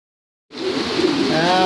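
A racing pigeon arriving at its home loft after a race, steady close cooing and fluttering that starts abruptly after half a second of silence and holds loud to the end.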